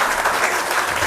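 An audience at a KBC-style Hindi GK quiz competition claps in a brief, even burst of applause that fills the whole moment.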